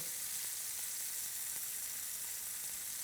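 Meat searing in a hot pan just after being turned, a steady faint sizzle that holds evenly for the whole stretch with no talk.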